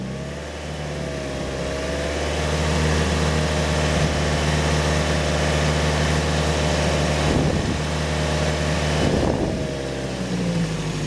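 A car engine on a new car with a new battery revs up steadily during a battery charging test, a loud continuous drone with rising and falling pitch and two brief surges near the end, no talking.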